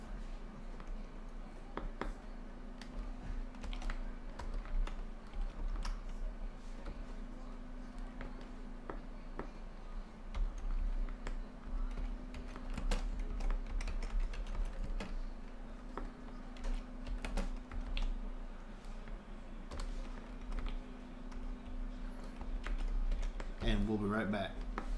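A computer keyboard is used to type a device description while configuring a Cisco switch, a steady close patter of key clicks running for about 25 seconds beneath a low hum.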